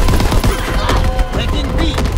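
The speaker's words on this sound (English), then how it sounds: "Enemy strafing run. Inbound." Rapid strafing gunfire from an enemy aircraft in the World War II shooter Call of Duty: WWII, loud dense bursts of shots crackling through the whole moment amid battle noise.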